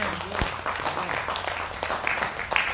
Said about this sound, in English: Clap your hands one more time and give God praise.